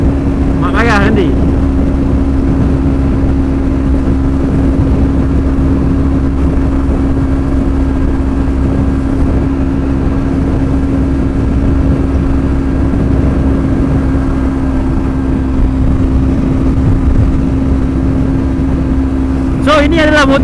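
Steady engine drone from a Kawasaki Ninja 250 motorcycle while riding, a loud sustained hum with wind rumble that continues throughout, with a voice speaking over it briefly at the start and end.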